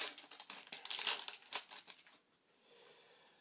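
A Panini Champions League 2014-15 sticker pack is torn open up close, with a rapid run of crinkling and ripping foil wrapper that fades into faint rustling.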